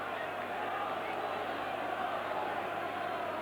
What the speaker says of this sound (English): Rovers crowd getting behind the favourites now.